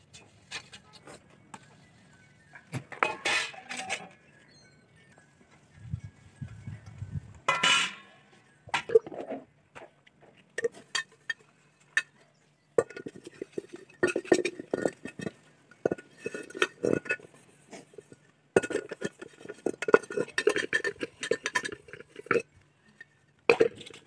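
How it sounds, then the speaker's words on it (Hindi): Pots, dishes and a pressure cooker scrubbed with wood ash outdoors in a Himachal village: scattered clinks and metallic scraping in bursts, close by, with pauses between. "तो चलो करते हैं बर्तन साफ़।"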